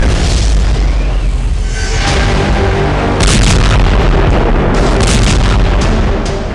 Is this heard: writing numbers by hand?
no